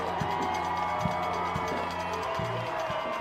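Spectators at a college football game between USF and Saint Xavier keep up a steady crowd roar, with rhythmic drum thumps beating underneath the continuous noise.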